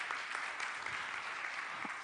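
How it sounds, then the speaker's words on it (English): Audience at a business forum applauding a participant for a correct answer, a soft, distant wash of clapping that continues evenly for a couple of seconds. "Big round of applause for Lolita for getting the right answer."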